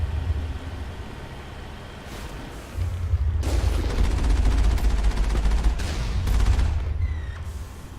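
Gunfire from the Mass Effect game during a fight against a tank, heard as dense rattling bursts over a heavy low vehicle rumble that swells midway and stays loud, with no talk.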